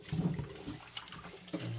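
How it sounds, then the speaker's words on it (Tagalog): Tap water runs and splashes as rice is washed in a pot or bowl at a home kitchen sink, a steady soft gurgling stream with a few sloshing swirls, fairly faint and without talk. "Hugasan lang natin yung bigas."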